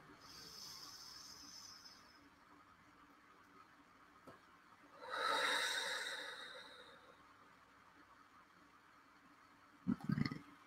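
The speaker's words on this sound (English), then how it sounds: "Let's try that once more. Deep breath." Slow, deep human breathing in a calm setting: a soft exhale, then one long, full breath swelling and fading, with a short sniff near the end.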